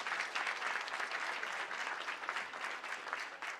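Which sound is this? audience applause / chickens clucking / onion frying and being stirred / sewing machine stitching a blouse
audience applause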